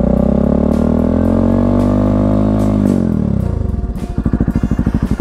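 Kawasaki-Bajaj Rouser NS160 motorcycle fitted with an Akrapovic exhaust, held at a loud, close, steady high rev that rises slightly, then drops back to a throbbing, pulsing idle.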